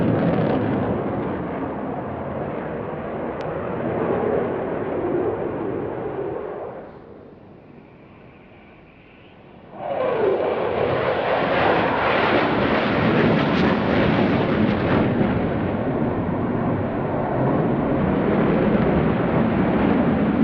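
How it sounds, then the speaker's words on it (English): Jet aircraft flying a tight 360-degree minimum radius turn at a seaside airshow, a loud continuous roar that briefly dips and fades before surging back to full power for the rest of the pass. "He's turning the aircraft through 360 degrees in about 300 feet diameter turning circle."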